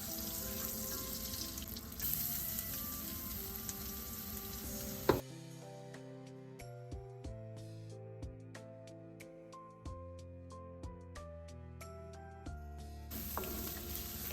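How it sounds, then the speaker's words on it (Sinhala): Ginger and garlic frying in butter and olive oil give a steady, close sizzle at the start and again at the end, with music playing in between. "ඉස්සෙල්ලාම බටර් ටිකකුයි ඔලිව් ඔයිල් ටිකකුයි දාලා ඒක රත් වුණාට පස්සේ ඒකට ඉඟුරුයි"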